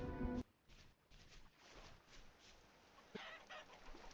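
Chickens clucking in a Minecraft-style block-building video game, a short loud burst at the start followed by faint scattered clucks and game sounds.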